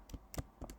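Keyboard keys tapped on a Mac computer, a few separate soft clicks in small clusters, close and quiet with no talk over them.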